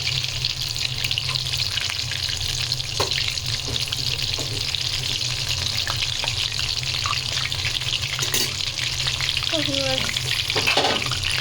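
Chicken frying in a pan gives a steady, dense sizzle throughout, with occasional stirring clinks and scrapes near the end.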